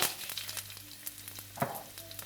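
Fennel and white cumin seeds crackle and sizzle in hot oil heated for a pickle-style tempering, with small spattering pops and a faint clink of a utensil, close and steady.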